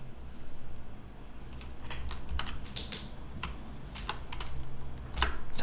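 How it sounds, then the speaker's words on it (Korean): Typing on a computer keyboard, with a run of close, crisp key clicks in uneven bursts and a firmer keystroke near the end like the Enter key. "18이라고 적고 엔터를 치면"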